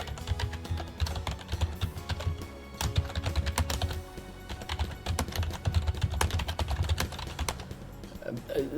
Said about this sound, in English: Let me type this out real quick.